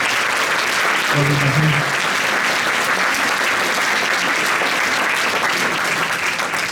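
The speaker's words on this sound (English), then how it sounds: "So what about a round of applause for Matthew, our drummer?" Concert audience applauding the drummer of a youth jazz orchestra at a Christmas concert, loud and sustained throughout, with a brief spoken voice near the start over the clapping.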